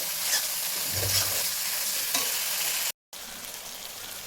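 Spice paste sautéing in a pan with a splash of water before mutton goes in, a loud, steady sizzle with constant stirring and scraping, interrupted by a brief silent cut midway.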